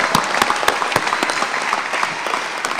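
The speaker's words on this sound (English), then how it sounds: "I want you to clap for this class right here" A crowd at a police academy commencement applauds the graduating class, a dense burst of clapping with sharp individual claps standing out close by, sustained and fairly loud.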